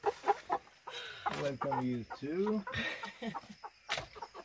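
Hens clucking in a backyard chicken coop, a few soft close calls under a voice talking to them.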